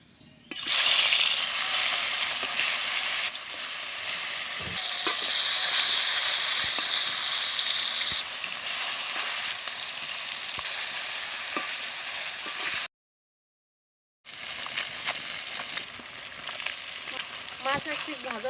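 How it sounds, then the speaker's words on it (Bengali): Koi fish, a climbing perch, fries in hot oil in a wok, giving a loud, continuous close-up sizzle and hiss. The sound breaks off briefly near the end, then resumes more unevenly. "তেল গরম হয়ে গেছে, মাছটা দিয়ে দিচ্ছি আমি।"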